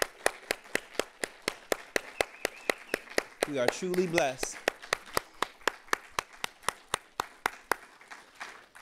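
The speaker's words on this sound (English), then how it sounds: "Let's just give a round of applause for all the artists we heard tonight" Audience clapping for performing artists at an evening event comes through as a steady, evenly spaced beat of sharp claps, fairly close, with a voice speaking briefly over it midway.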